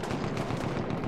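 Dense rapid gunfire in the video game Battlefield 1, a continuous crackling barrage of overlapping shots, loud and without pause.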